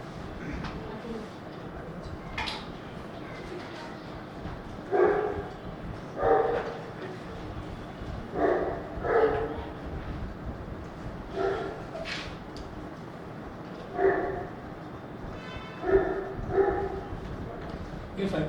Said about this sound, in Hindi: सर ये कुत्ता बोल रहे हो